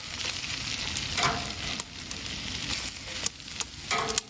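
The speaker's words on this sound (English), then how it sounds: "we'll take this asparagus and drop it right in the butter here" Asparagus frying in hot butter on a BBQ build setup, a steady close sizzle with crackling pops and a few sharp clicks of utensils throughout, no voices.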